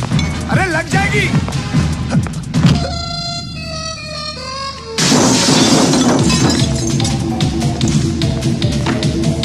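Glass shattering and breaking in a loud, chaotic comedy film scene, with crashes and tinkling shards amid shouting voices and a dramatic music sting.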